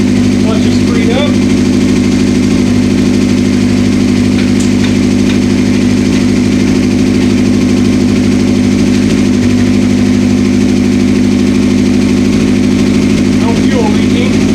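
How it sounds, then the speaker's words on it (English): A 1984 Honda CB700SC four-cylinder motorcycle engine idles steadily and loudly up close, a constant even drone throughout with brief voices faintly over it. "We got spark, all 4 cylinders are running."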